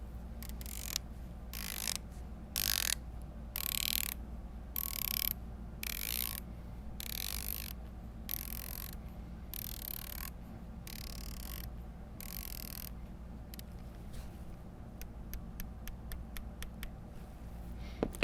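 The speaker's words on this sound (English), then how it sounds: "So what I'm looking for is the distance between the clicks." Rifle scope turrets are turned by hand, giving crisp, close mechanical clicks in rapid bursts separated by short pauses, with a faster run of tightly spaced clicks near the end.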